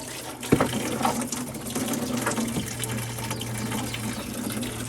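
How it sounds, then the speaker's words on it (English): Coolant draining from the engine of a 1995 Chevy Silverado during a water pump job, a steady splashing stream of liquid running nearby, with a sharp knock near the start and a low hum underneath. "All the coolant is draining."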